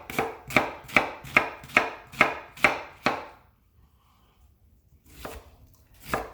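Garlic chopped fine with a knife on a cutting board: about eight quick, even, close-up chops at a steady rhythm, then a pause and two more chops after a short gap.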